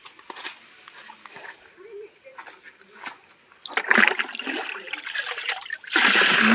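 Copper sulfate, lime and gum are stirred into a water-based spray solution for an areca plantation, with splashing and sloshing that grows louder toward the end, while a person talks.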